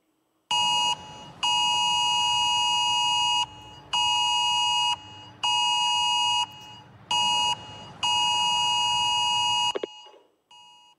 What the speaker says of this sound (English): that is the sound of the UK's emergency alert system